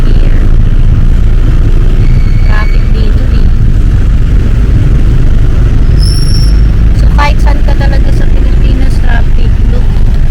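Busy street traffic on a road in Dumaguete, with a dense, loud rumble of engines, passing motorcycles and tricycles, a couple of horn blasts, and people talking over the noise close by.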